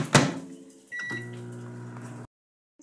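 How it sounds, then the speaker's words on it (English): Microwave oven heating egg cups for breakfast: a sharp door or button clunk, then a steady low hum with faint beeps that runs for about a second and a half before cutting off to silence. "they're in the microwave right now, the egg cups that I made"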